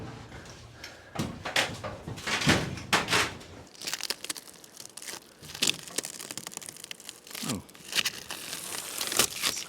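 Old sealer is peeled off a 1975 Viscount caravan roof with irregular crackling, tearing and scraping bursts, close by, with handling knocks throughout.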